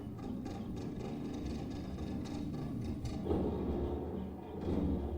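Low rumbling, creaking groans from old household plumbing in an old house, a steady mechanical drone that swells slightly near the end, with no talking.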